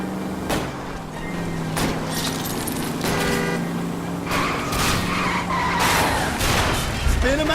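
Tires skid and squeal through a car chase on a wet road in the video game L.A. Noire, with engine roar and repeated sharp screeches and impacts, loud throughout.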